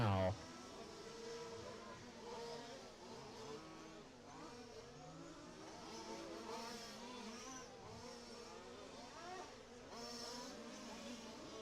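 Race cars circling a track during a club race, a white BMW and a white-and-orange Alfa Romeo among them, their engines droning and revving steadily at a distance over several seconds.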